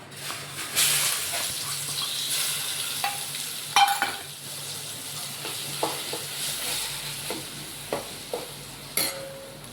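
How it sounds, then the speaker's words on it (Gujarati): Cumin seeds crackle and sizzle in hot oil as a tempering for a fried bhungla and potato dish, a steady frying hiss broken by sharp pops and a few clinks. "હાલો આપણે વઘાર કરી નાખી."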